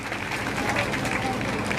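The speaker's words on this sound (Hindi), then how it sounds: "जोरदार तालियों के साथ में इनका भी स्वागत" Loud, dense crowd applause at a convention welcoming a sketch artist, a steady unbroken wash of many hands clapping throughout, close and full with no pauses.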